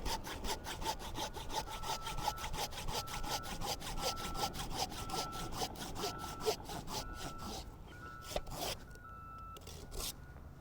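A hand saw cuts through a tree branch just in front of the branch collar during tree trimming, making steady rhythmic back-and-forth rasping strokes that slow and break off near the end.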